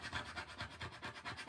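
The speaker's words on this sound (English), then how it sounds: "I am going to scrape this chalk off, wipe it off, and re-chalk it." A hand scraper rasps chalk off a surface in quick repeated strokes, a close, steady scratching rhythm of about eight passes with no voices.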